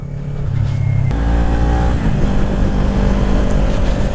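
A Kawasaki Ninja 400 motorcycle engine hums steadily while riding, a loud continuous drone with a slight rise in pitch, heard up close alongside rushing wind noise and no talk.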